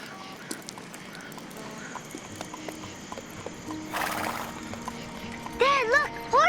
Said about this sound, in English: Dad, look! Horsey!